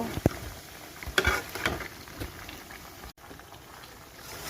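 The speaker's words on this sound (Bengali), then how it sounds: "এখন ভালোভাবে এগুলো আমি কষিয়ে নেব" Mango pieces for a sweet-and-sour pickle sauté in a pan with turmeric and chili powder, making a soft steady sizzle with a few spatula knocks and scrapes near the start. There is no talk.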